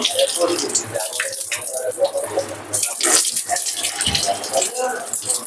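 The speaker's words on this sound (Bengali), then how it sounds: "হাতটা ধুয়ে আসলাম" Hands washed under a running tap: steady hiss and splash of flowing water close by, continuous throughout with brief changes in the stream.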